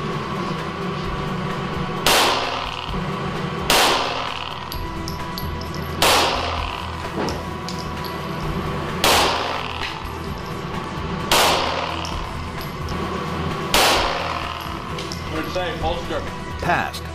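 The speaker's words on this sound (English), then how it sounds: "5 full metal jacket 9mm rounds. 15 mil film applied using the C-Bond technology application solution." Seven loud 9mm full metal jacket shots fired into film-coated commercial glass at steady intervals of about two seconds, each a sharp crack with a short ringing tail over a constant background hum.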